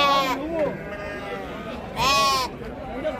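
Sheep at a livestock market give two loud, wavering bleats close by, one at the start and one a couple of seconds later, amid talk and crowd murmur.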